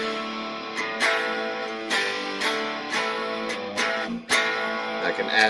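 An electric guitar played through a Line 6 rig on a rock-flavored delay preset: strummed and picked chords with repeats trailing behind, steady and close, with no voice.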